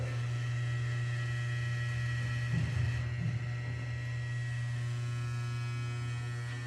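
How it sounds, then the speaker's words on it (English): A vintage Colley elevator's door operator in Skokie, Illinois hums steadily and loudly while straining to hold the door shut, a constant low drone with a brief rougher flutter partway through and no voices. "that's the noise of the door operator attempting to hold the door shut"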